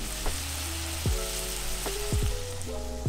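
Chorizo sizzles and fries steadily in a pan of bean sauce, a continuous close crackle with a few brief low clunks from stirring or moving pieces.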